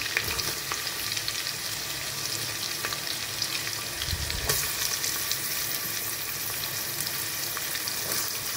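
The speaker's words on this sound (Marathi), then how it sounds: "आता आपण याच्यामध्ये कांदा टाकणार आहोत" Chopped onions sizzle in hot tempering oil for a spicy village-style chicken dish, a steady broadband frying hiss that swells loudly midway as they hit the pan, with no talking.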